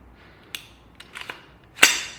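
A few sharp mechanical clicks from a Fostech AR II trigger dry-firing on a Zbroyar Z15 AR-15 rifle, spaced apart, ending in one louder snap, in a quiet room.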